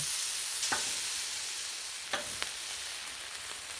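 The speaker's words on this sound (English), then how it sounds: "And then you sear it to get your," Sirloin steak searing on a hot griddle, a steady hissing sizzle that fills the space, broken by a few brief sharp crackles and pops from the fat.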